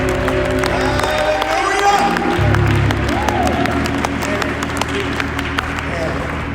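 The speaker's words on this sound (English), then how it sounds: "let's clap our hands" A church congregation claps hands together in a loud, dense burst of applause with cheering, while people talk over it.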